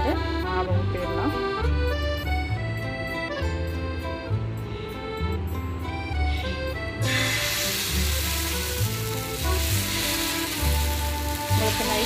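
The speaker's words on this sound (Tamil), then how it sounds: "கல் சூடானதும் நம்ம லைட்டாக ஆயில் அப்ளை பண்ணிக்கலாம். பண்ணிவிட்டு மாவு ஊற்றிடலாம்." Bottle gourd dosa batter sizzles on a hot oiled griddle, a steady frying hiss that grows noticeably brighter and louder partway through, with a low background hum and no talking.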